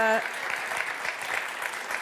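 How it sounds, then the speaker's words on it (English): Audience applause at a European Mobility Week award ceremony, a dense steady patter of clapping from a crowd that carries on evenly, with a brief voice at the very start. "can we please give her a round of applause?"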